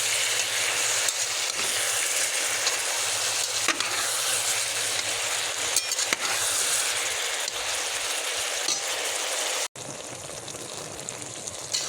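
Vegetables frying with turmeric and salt in a pan, giving a loud, steady hiss of sizzling throughout, with occasional stirring scrapes and a brief break near the end before it resumes.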